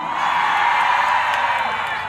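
Concert audience cheering and shouting together, a steady crowd roar with whoops rising over it and no break for the whole stretch.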